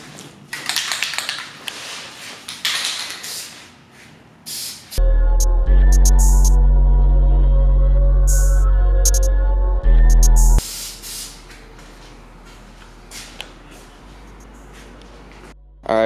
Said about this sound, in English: now we're going to go ahead and start primering it